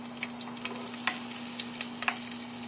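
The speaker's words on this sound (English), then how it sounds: "the onions, listen to it sizzle" Onions sizzling in a hot pan on a gas grill, a quiet steady frying crackle with scattered small pops and ticks throughout, alone without talk, plus a faint constant hum underneath.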